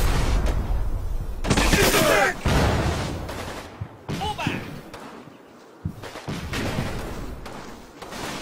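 Gunfire in the WWII tactics game Combat Mission: Battle for Normandy, with loud bursts and thumping shots layered over one another and a voice talking throughout.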